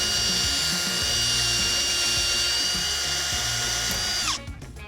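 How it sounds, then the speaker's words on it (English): A loud, steady power drill whines and grinds continuously while drilling off a rivet head on a swamp vehicle panel, then spins down abruptly near the end with a rattling clatter. "then we'll take our drill and drill off the head of the rivet"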